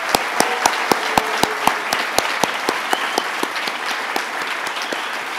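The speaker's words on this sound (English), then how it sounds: "let's give all of our recipients one more round of applause" An awards ceremony audience applauds recipients at a national crime victims' service event, a steady round of hand claps with sharp, evenly spaced louder claps standing out near the front throughout.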